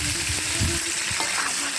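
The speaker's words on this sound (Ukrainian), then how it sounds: "Тому ми її добряче отак на хорошому вогнищі обсмажуємо." Meat for Uzbek pilaf sizzles loudly and steadily as it is seared over an open fire, a dense crackling hiss close to the microphone with no speech.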